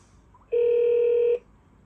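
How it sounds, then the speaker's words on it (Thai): An outgoing call tone from an EZVIZ C6N Pro 2K security camera: a single steady electronic beep lasting under a second, loud and close against a quiet background. "พอกดปุ๊บมันจะมีเสียงโทรออกนะครับ"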